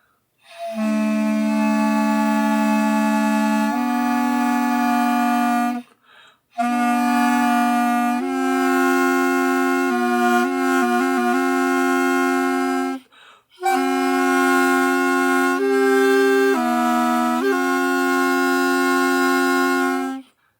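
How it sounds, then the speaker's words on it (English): A reedy Japanese double-pipe wind instrument plays long sustained tones in two voices together, the right pipe lower and the left higher, with short note changes and a few breath pauses between phrases. "Yeah, it's two pipes to play together."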